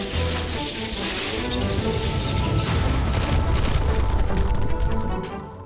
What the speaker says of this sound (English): It creates a small black hole of sorts, pulling the nearby buildings and troops into it and finally exploding in the end, throwing the troops back out.